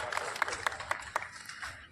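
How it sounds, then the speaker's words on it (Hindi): A small audience at a club's medical camp event in Sujangarh claps: sparse, separate claps land at a loose, steady pace for a couple of seconds. "जोरदार तालियां बजाइए डॉक्टर एसआर शुक्ला साहब के लिए"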